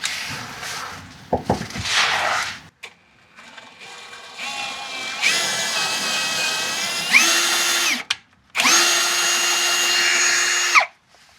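A power drill drives a sacrificed screw through threads to clean them, in several whining bursts that rise and fall in pitch under load, separated by pauses and clicks, close and loud with no talking.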